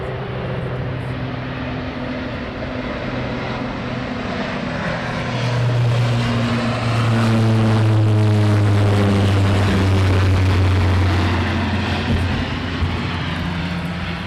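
A Lockheed C-130 Hercules turboprop flies past near RAF Lakenheath. Its loud, steady propeller drone carries pulsing tones and swells midway, then holds strong and close, with no voices.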